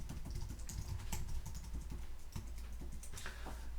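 Rapid clicking of keys on a computer keyboard, an irregular stream of close, light taps that continues throughout at a quiet level, with no speech.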